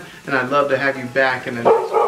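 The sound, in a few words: dog barking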